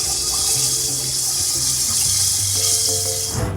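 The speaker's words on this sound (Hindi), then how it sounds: "अब इसमें हमने यखनी का पानी डाल दिया है।" Mutton yakhni broth is poured into a pot for pulao in a steady, close, rushing splash of liquid that runs continuously and then tapers off.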